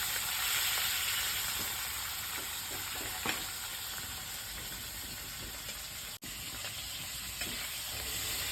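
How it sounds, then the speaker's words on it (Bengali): Salted hilsa fish pieces fry with onion in a pan, giving a steady, fairly quiet sizzle with occasional light clinks and stirring scrapes. "নোনা ইলিশগুলিকে বেশ খানিকটা সময় উল্টে পাল্টে ভাজার পর"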